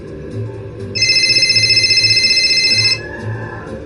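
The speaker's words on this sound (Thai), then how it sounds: "เสียงโทรศัพท์" A telephone rings in a loud, trilling burst for about two seconds, then stops against a quiet background.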